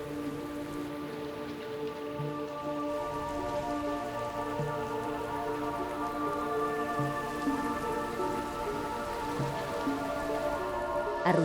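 Heavy, persistent rain falling over the jungle of southern Mexico, a steady, dense hiss of drops on leaves and surfaces that holds evenly for the whole stretch with no voices.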